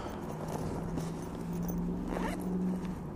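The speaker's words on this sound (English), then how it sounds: "as I break the zipper off of my bag" A bag zipper is yanked open with a continuous ratcheting rasp lasting a few seconds, close and steady, with no talking over it.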